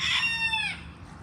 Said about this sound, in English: morning from my local farm, local poultry.